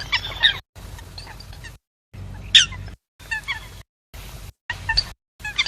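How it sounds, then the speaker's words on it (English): Geese give loud, close honks and squawks as birds take off, in short choppy bursts broken by brief gaps. "That right there, that's birds taking off."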